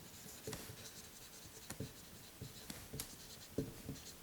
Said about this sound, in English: I'll write it over here for you.